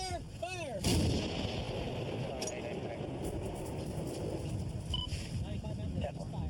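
An artillery gun fires once, a single loud, close blast near the start that rolls into a long reverberating rumble, with crew voices calling out around it.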